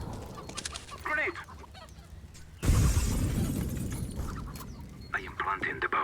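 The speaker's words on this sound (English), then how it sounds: "Grenade." A grenade explodes in Counter-Strike: Global Offensive, a sudden loud burst midway that decays into a rumbling tail. Game voice lines and faint clatter are heard before and after it.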